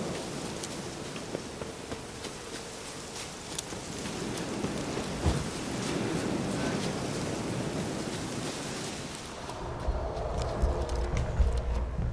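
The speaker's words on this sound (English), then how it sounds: "Looks like rain." Steady rain in the video game The Witcher 3: Wild Hunt patters across a surface, a soft constant hiss with scattered drops, deepening into a lower rumble near the end.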